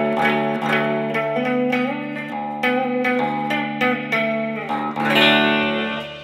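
An electric guitar played through a small transistor amp plays chords and single notes with a warm, slightly gritty amplified tone and a touch of reverb, steady and close.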